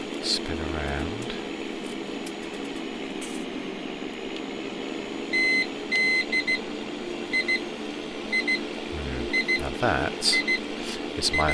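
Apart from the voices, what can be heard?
alarm beeping for a 45-minute timer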